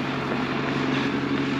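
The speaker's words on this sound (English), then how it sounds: "So we were just running away from the tractor." A tractor spraying a field drones steadily from a short distance, a continuous engine hum with no speech.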